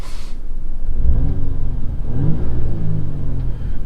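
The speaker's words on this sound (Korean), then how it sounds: "조금의 엔진 사운드가 증폭이 되는 걸 보실 수 있으시죠?" An Audi A5 Sportback quattro engine, amplified in dynamic sound mode, hums and rumbles steadily, swelling slightly as it revs, close and fairly loud with no voices.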